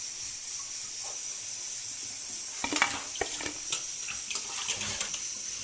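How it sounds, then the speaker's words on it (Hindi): Sabudana tikki frying in hot oil, giving a steady close hiss that breaks into scattered sharp crackles and pops midway, with no voices. "अब इसी तरह हम बाकी की टिक्की भी फ्राई कर लेंगे"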